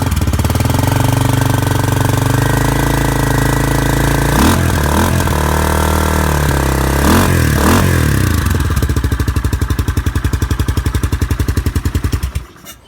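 A Yamaha FT500 single-cylinder motorcycle engine, restored and modified, runs loud and close with a deep thumping idle, two brief revs in the middle, then a faster pulsing beat before cutting off at the end.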